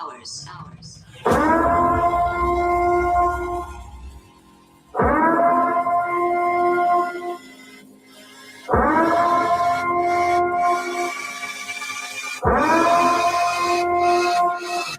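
A civil defense style siren wails in four long rising blasts, each swelling up, holding a harmonic-rich tone and then cutting out, with brief low gaps between; the blasts are loud and close, with no one talking.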